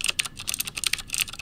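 Fast, crisp typing on a mechanical keyboard with Cherry green switches, each keystroke giving a sharp, close click in a busy, slightly uneven rhythm, with no voices.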